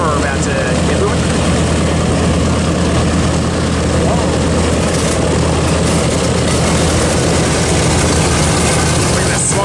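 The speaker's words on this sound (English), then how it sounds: "The propellers on the B-17 now, YouTube, are about to get moving." A Boeing B-17 bomber's propeller engines make a loud, continuous, rough drone that holds steady throughout, heard from fairly close.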